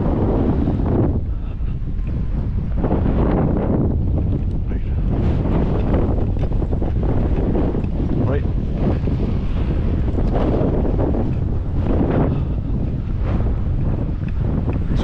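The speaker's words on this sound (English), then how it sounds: "Waterfall's running quite nicely today." Hell's Gill Beck waterfall runs through its gorge in a constant, loud broadband rush of falling water, steady throughout with some wind buffeting at the microphone.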